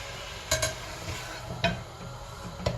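Boiled beef on the bone cooks in a pan with a low sizzle, broken by a few sharp clatters of stirring or utensil contact, close and quiet with no talking.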